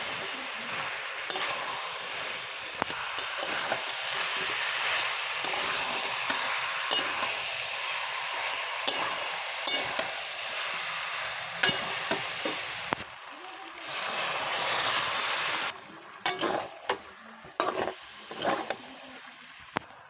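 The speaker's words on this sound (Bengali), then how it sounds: "এঁচোড় আলুগুলোকে হালকা করে কষিয়ে নেবো" Jackfruit and potatoes being sautéed and stirred in a pan, a steady hissing sizzle with frequent scraping and clinking of a spatula against the pan, close and continuous, a voice talking intermittently over it.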